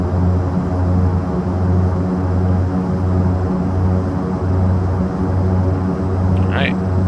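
Turboprop engines of a Turbo Commander 690B in the X-Plane 11 flight simulator hold a loud, steady droning hum at set RPM, with a constant low throb and a brief faint chirp near the end.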